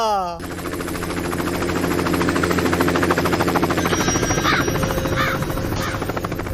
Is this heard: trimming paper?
no